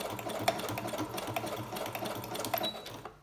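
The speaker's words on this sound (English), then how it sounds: "So I'll just stitch it a little bit and then I back stitch it." A sewing machine stitches a small fabric snippet, running in a steady mechanical whir with short back-stitch bursts, close and moderately loud throughout.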